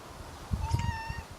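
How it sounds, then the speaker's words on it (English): A cat meows once, short and fairly faint, outdoors near a house, with soft low thumps underneath. "What a cute cat."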